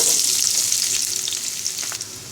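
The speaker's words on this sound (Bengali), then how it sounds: "তেলটা গরম হয়ে গেলে এবার দিয়ে দিচ্ছি আধা কাপ পরিমাণ পেঁয়াজ কুচি" Chopped onion hits hot soybean oil in a frying pan and sizzles loudly and close up in a bright, continuous hiss that eases slightly toward the end.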